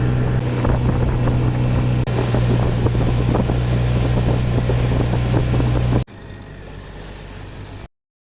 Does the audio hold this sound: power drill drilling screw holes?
no